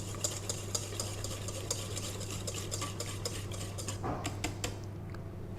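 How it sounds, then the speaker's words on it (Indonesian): Egg yolks stirred in a bowl for a chiffon cake batter, a steady scraping and clinking rhythm of utensil against the bowl, close and continuous over a constant low hum, with a few sharper taps near the end. "kuning telur ini diaduk"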